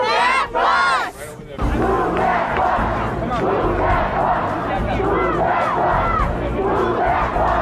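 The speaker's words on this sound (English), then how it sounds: "thousands of people that line the street and everyone's just cheering" A huge street crowd roars and cheers continuously as a bus is moved aside at a home makeover reveal, dense loud shouting from thousands of people with no break.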